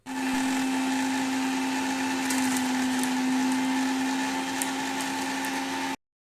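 A mixer grinder grinding spice paste for chicken gravy whirs loudly and steadily for about six seconds with a high motor whine, some rattling grit, then cuts off abruptly.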